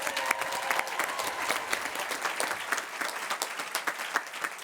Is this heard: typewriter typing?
no